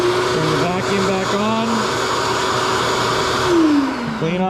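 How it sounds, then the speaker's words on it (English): A shop vacuum runs steadily and loud beside a drill press in a workshop, its motor whine wavering in pitch and rising briefly near the end, with no talk over it. "if I need to clean more of the table off, turn the vacuum back"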